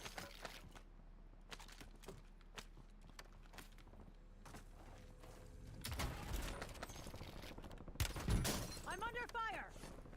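Gunfire crackles in Call of Duty Warzone, a distant popping of shots that builds into louder bursts in the later seconds, with radio-style voices talking over it.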